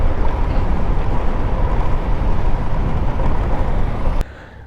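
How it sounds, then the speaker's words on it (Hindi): A motorcycle rides along a road with a loud, steady engine drone and wind rush close to the rider, which cuts off abruptly near the end to a quieter background. "बाइक ऑन करके अब मैं निकलता हूँ"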